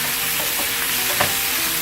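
Chicken and ground spices sizzle loudly in a hot pan while being stirred, a dense, continuous frying hiss with faint scraping of the spoon running through it.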